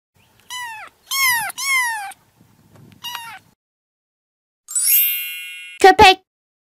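A cat meows twice in clear, drawn-out calls, followed by a couple of shorter meows, all close and loud with quiet gaps between them, plus a bright chime and a pair of sharp tones near the end.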